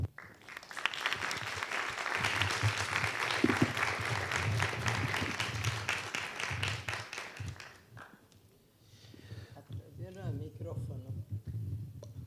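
Audience applause for a poet at a public conversation event, sustained steady clapping for about eight seconds, then fading as a voice begins speaking.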